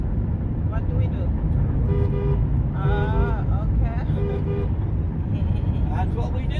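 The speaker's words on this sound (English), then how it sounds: "We honk our horn." A car horn honks in short bursts, several toots and a longer wavering blast, echoing inside a road tunnel over the steady roar of traffic, with people talking in the car.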